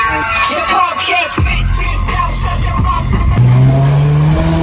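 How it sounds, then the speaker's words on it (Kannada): A 2008 Honda Civic with a 1.8-litre engine and a full Valvetronic exhaust system rumbles loudly and revs. A deep exhaust drone swells, settles, then rises into a steady, strained roar near the end, with no talk. "ಈ ಕಾರಲ್ಲಿ ಇದೆ ಫುಲ್ ಸಿಸ್ಟಮ್ ವ್ಯಾಲಟ್ರಾನಿಕ್ ಎಕ್ಸಾಸ್ಟ್"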